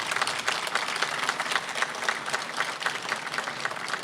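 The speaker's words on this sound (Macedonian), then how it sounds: "Да ги поздравиме со еден огромен аплауз" Dense crowd applause at an open-air political party rally, continuous rapid clapping from many hands, fairly close and sustained without a break.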